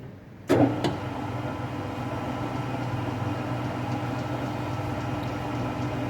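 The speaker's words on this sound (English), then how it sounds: "we should select the lowest available speed on the chuck, which is 22 RPM. I'm going to switch that on now." A lathe switched on with its chuck rotating at 22 RPM, starting with a sharp click and then settling into a steady, even motor hum at moderate level.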